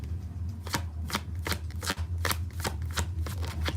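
Tarot cards shuffled by hand in quick, repeated riffling bursts, about a dozen crisp snaps close up over a steady low hum, with no talking.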